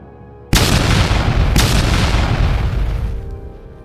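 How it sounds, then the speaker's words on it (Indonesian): A loud fiery explosion blast bursts in suddenly, a second sharp impact follows about a second later, and a roaring rumble sustains before slowly fading. "Desta melompat ke udara, melontarkan ledakan api ke bawah sambil tertawa."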